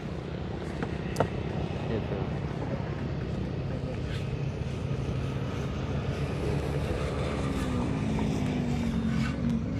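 An agricultural drone flies over a rice field with a steady droning motor buzz that continues throughout, partly under people talking nearby outdoors.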